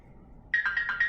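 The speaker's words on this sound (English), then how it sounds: "that was my phone going off" A mobile phone ringtone suddenly chirps up after a quiet moment, a bright electronic melody of quick repeated pulses sounding close and clear.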